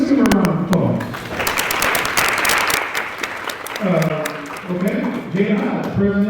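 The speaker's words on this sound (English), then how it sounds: "Let's give her a round of applause." An audience applauds at an annual NAACP meeting, a burst of clapping rising and fading over several seconds while a speaker talks over it at the start and again after it dies down.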